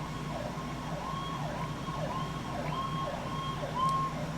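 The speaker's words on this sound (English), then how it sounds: "as you hear the ambulance behind me" Ambulance siren wailing in a steady rising-and-falling cycle behind an outdoor scene, fairly distant but clearly audible over a constant background rumble, with no talk.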